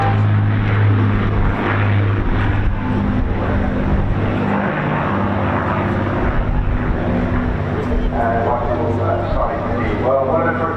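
An Avro Lancaster bomber of the Battle of Britain Memorial Flight makes a propeller flypast at a seaside air festival, its steady engine drone loud and continuous beneath a commentator's talk.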